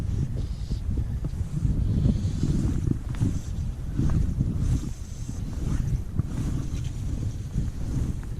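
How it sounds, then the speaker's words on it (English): Wind gusting outdoors on a chilly evening by a Hebridean trout loch, a continuous low rumbling buffet battering the microphone with uneven surges throughout. "This wind is quite unpleasant actually."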